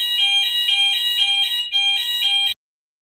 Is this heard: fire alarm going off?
yes